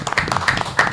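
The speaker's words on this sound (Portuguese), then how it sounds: "Salve de palmas." Brief round of applause on a podcast set, a few hands clapping loosely and close, with voices speaking over it.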